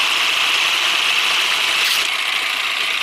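An RC model's drivetrain runs through low gear and then high gear: a steady, close, loud whirring hum whose tone shifts about two-thirds of the way through, with no talking.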